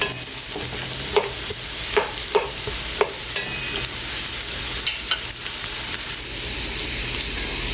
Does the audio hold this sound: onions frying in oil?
yes